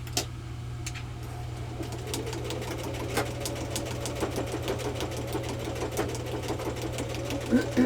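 A sewing machine stitches through a quilted card in a steady, close mechanical run, with faint bird calls in the background and someone speaking quietly over it at times.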